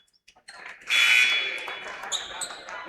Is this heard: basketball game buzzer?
yes